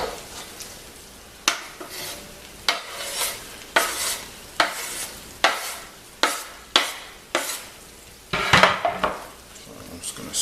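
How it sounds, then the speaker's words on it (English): Vegetable stir-fried rice being stirred in a hot pan: a regular series of loud scraping strokes roughly every second, with a soft sizzle underneath and a clatter of the utensil near the end, no talk. "So I'm just going to stir this a little bit, and it's coming along nicely"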